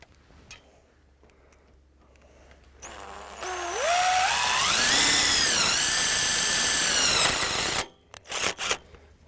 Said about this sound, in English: Pre-drilled my hole there with the self-tapping screw, and then I'll hold the strap up there.